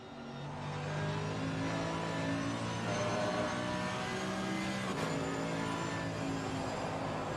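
A GT3 race car engine at Snetterton in a racing video game revs and pulls hard out of a quick left-right, a steady loud whine that briefly drops at a gear shift before climbing again.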